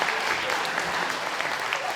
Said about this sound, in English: I think Natalia needs a big clap for doing that.